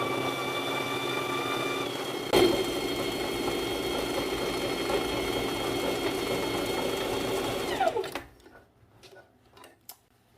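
A sewing machine runs a steady elastic stitch on a plus-size bikini bottom, whirring continuously with a sharp knock near the start, then stops abruptly and leaves a few faint clicks.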